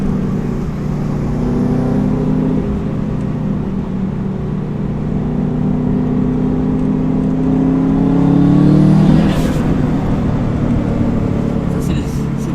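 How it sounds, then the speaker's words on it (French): A Subaru WRX STI stage 3 tuned to 420 hp, heard from inside the car while accelerating onto a motorway: a steady, loud engine drone whose turbo pitch climbs and swells, peaking in a brief whooshing surge near the end. "Ça, c'est le turbo, ça."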